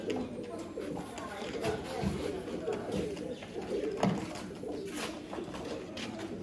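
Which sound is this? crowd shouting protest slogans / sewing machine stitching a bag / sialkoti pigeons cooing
sialkoti pigeons cooing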